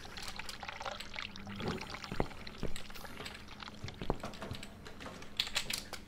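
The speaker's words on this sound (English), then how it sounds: "The water from the bath is completely overflowing." Bath water overflowing in the video game The Cat Lady: a faint, quiet pouring and trickling of water with scattered light clicks and taps over it.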